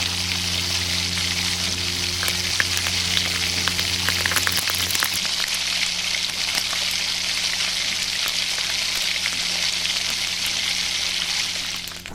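Continuous crackling sizzle of garlic, chillies and curry leaves frying in oil, close and even throughout, with a low hum underneath.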